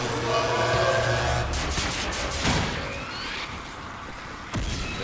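Explosions and crashing blasts in the shooter game Wolfenstein: The New Order, a dense loud rumble with several sharp bursts, the strongest hit near the end, without speech.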